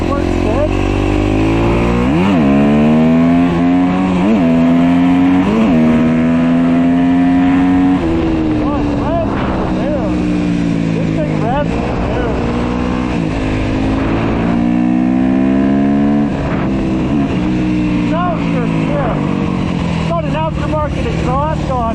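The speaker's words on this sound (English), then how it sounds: "Aftermarket exhaust on it. It does sound good." A loud 2011 Yamaha YZ250 dirt bike engine with an aftermarket exhaust revs up and down repeatedly, its raspy exhaust note rising and falling, close and continuous.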